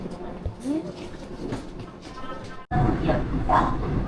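Steady rumbling of a train in Jeju Island, South Korea, moving along the tracks, with people talking over it and a sudden louder burst of rolling noise partway through.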